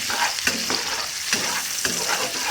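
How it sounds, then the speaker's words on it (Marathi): Vegetables, cauliflower and peas, fry in a pan with a steady sizzle, while a spoon stirs them and scrapes the pan in a few brief strokes, all close and without speech. "पहिले याला थोडंसं तळून घेते."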